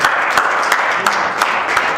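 A wedding crowd applauds the pastor: steady, fairly loud clapping from many hands, with regular sharper bursts and no talk over it.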